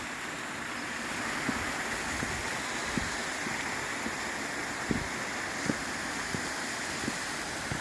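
Leura Cascades waterfall in the Blue Mountains, a steady broadband rush of falling water heard close and fairly loud, with light wind buffeting and faint intermittent knocks throughout.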